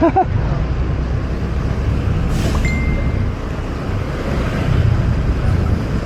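A motorcycle engine idles after starting on a flooded street, its exhaust cap removed: a steady low rumble close to the microphone, with wind buffeting and a faint high tone partway through.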